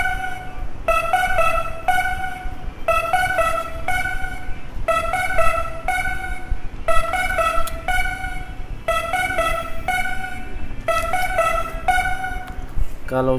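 A DJ remix beat bar built in the G-Stomper Studio app on an Android phone loops a punchy synth-horn stab pattern in repeated bursts over a steady thumping rhythm, loud and close throughout.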